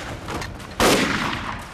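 Gunfire in a Second Sino-Japanese War combat scene targeting a sniper position: a sudden loud burst of shots at about the midpoint that rings on over a rumbling battlefield background, with no speech.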